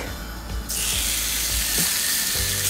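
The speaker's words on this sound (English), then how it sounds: "my griddle pan is leaping hot. Right, so that's ready. I'm going to go in with my steak." Seasoned steak hits a leaping-hot griddle pan and bursts into a loud, steady sizzle that stays dense and close, with a few soft clunks of handling underneath.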